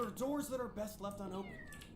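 A cat in the video game Zombeer gives a couple of close, clear meows, rising and falling in pitch over about two seconds, with a voice speaking around them.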